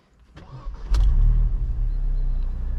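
A Mercedes CLK engine with a middling battery cranks with a few short catches, then starts up and settles into a steady, loud idling rumble nearby.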